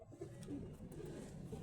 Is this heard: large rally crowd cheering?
no